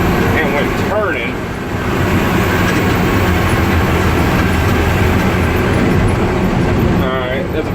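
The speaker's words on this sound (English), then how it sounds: "it's got that little tick tick scrape noise that a U-joint would have. It happens under hard throttle." Tick and scrape rattle, like a worn U-joint, inside the cab of an M923A2 military truck while turning under hard throttle, buried in loud, steady engine and road roar with a voice speaking briefly.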